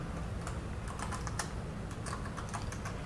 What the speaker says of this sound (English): you go to drafts and type ls